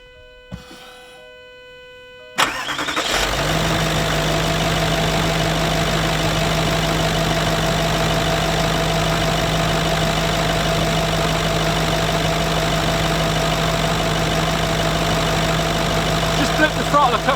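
A Range Rover 3.6 TDV8 diesel engine cranks and fires after a short quiet pause, then settles into a steady, loud, close idle with a constant low hum and mechanical clatter that runs to the end.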